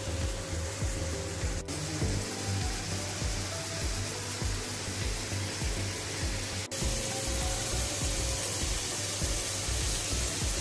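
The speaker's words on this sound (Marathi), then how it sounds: "चांगलं बटर आणि घी मध्ये शॅलो फ्राय करायचं" Chicken malai kabab shallow frying in butter and ghee gives a steady, dense sizzle that holds at an even level throughout, with a low hum underneath and no talking.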